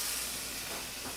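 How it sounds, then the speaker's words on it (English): A chimichurri burger patty sizzles in a hot pan, giving a steady bright hiss that carries through the whole moment at moderate level, with no talking. "Do y'all hear that sizzle?"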